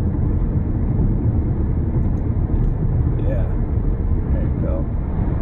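Alfa Romeo Giulia Quadrifoglio engine at steady high load during quick upshifts, a dense continuous roar that stays loud throughout, with a voice talking faintly over it.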